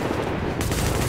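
Light machine gun fire in The Division, a dense continuous burst of loud shots that fills the whole moment with no pause and no voices.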